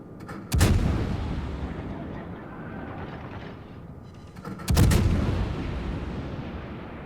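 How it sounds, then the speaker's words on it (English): Guns of a French tier-6 cruiser fire in naval combat, two booming salvos a few seconds apart, each with a long rumbling decay over a steady engine hum. "I'm going to keep firing on the battleship"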